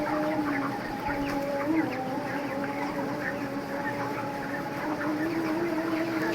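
A flock of chickens on a poultry farm keeps up a dense, continuous chorus of clucking and soft calls, steady and moderately loud throughout, with no talk.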